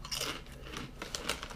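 Close, crisp crunching of a dry Korean sweet potato and maple syrup snack being chewed, with irregular bites and crackles, no talking.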